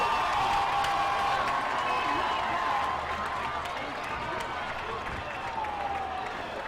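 A high school football crowd at a Dothan versus Wetumpka game cheers and applauds steadily from a distance, a sustained wash of whoops and clapping with no break.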